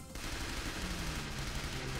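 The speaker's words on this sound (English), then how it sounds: "This part with an SMG is not fun" An SMG being fired in the School Girl Zombie Hunter video game, a dense continuous burst of rapid crackling shots that fills the whole moment, loud and close with no talking.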